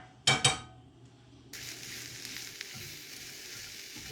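Thin-sliced garlic cloves hit hot olive oil in a pan, with a couple of sharp clattering hits at first, then a steady, fairly quiet sizzle that keeps going to the end.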